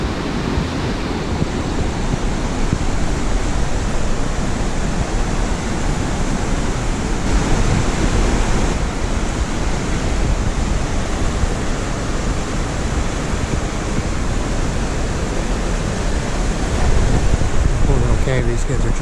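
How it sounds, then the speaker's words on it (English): Loud, steady roar of river rapids rushing through the gorge at McConnells Mill State Park, a dense wash of churning water that holds constant throughout with no break. "those rapids right there look even tougher."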